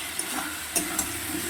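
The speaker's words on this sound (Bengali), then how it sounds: "মশলাটা কষানো হয়ে গেছে, এবার আমি আলু পটলের ভাজাগুলো দিয়ে দিচ্ছি" Fried potato and pointed gourd pieces stir-fried in spice paste in a pan, a steady close sizzle with a few soft scraping stirs and clinks, no talking.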